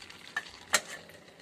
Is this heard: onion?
yes